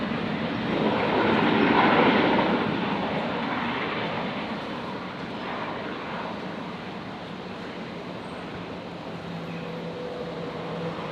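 Airliner taking off from runway 19 left at Brisbane airport, a broad roaring jet rumble that swells, peaks early and then holds steady as a distant, continuous wash.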